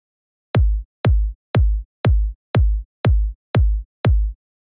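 A deep, punchy thumping kick drum plays a steady four-on-the-floor pattern for a dance remake: eight evenly spaced, loud, dry hits with short boomy tails and silence between them.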